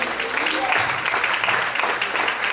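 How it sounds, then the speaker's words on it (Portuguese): A church congregation claps together in a dense, steady wash of applause during a morning service, with voices mixed in. "Aplauda a Deus."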